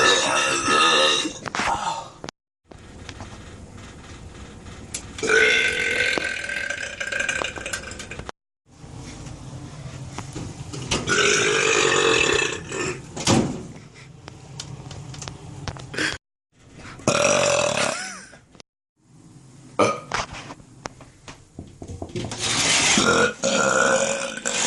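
Deliberate burps on command, a series of loud, long throaty belches separated by short silent gaps, with a person speaking in places.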